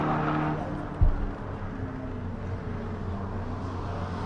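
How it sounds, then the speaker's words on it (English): Race cars pull into the pits at Buttonwillow during GTA finals, a steady engine drone filling the scene with a brief thump near the start and faint talk underneath. "Looks like we do have a few cars coming into the pits"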